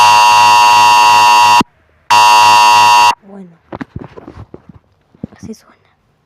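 Emergency alert tone from the SASSLA seismic alarm app: two loud, harsh buzzing blasts, the second following a brief gap, then someone speaks softly in Spanish amid light handling noises.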